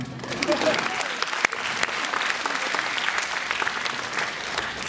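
A crowd at a Pecha Kucha night in Bangkok claps for a presenter: brisk, dense applause with a sharp individual clap near the start, staying lively and fairly close before gradually thinning.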